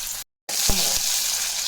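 Oil sizzling loudly in a pan while tempering for sambar, with green chilli going in; a steady bright crackle broken by a brief gap, then a couple of dull clunks from the pan.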